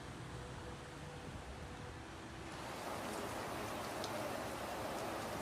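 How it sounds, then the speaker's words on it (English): Heavy rain pours down during UAE flooding from Sharjah to Dubai, a dense steady hiss of falling water that swells slightly louder partway through, with no other clear sounds. "Heavy downpours were observed in several areas."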